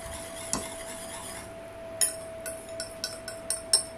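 A utensil stirs cornstarch into boiling milk in a pot for a cauliflower gratin sauce, scraping and clinking rhythmically against the metal in quick repeated taps.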